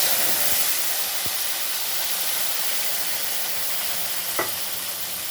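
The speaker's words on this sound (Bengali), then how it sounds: "আর দিয়ে দেবো 2টো বড় সাইজের টমেটো পেস্ট।" Tomato paste hitting hot oil with fried fennel seeds for a bottle gourd and biuli dal, giving a steady close sizzle and hiss throughout, with a couple of brief clinks and a short scrape near the end.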